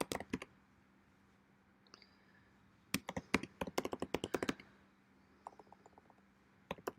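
Typing on a computer keyboard, quiet close clicks arriving in a few short bursts of rapid keystrokes separated by brief pauses, with a faint steady hum underneath.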